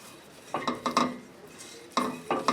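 A spoon scrapes and clinks in a pan as flour is mixed into melted butter, a few soft bursts of stirring separated by quiet pauses, close but faint.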